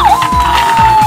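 Imaginext Rescue Heroes toy ambulance blaring a loud electronic siren with a steady high tone and repeated sweeping wails, close and alone.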